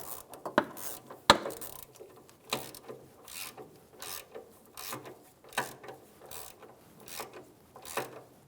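A hand ratchet snugs down a bolt on a power steering return line of a 2007–2017 Ford Expedition. It gives steady, close clicking pawl strokes with short scraping pauses between the pulls.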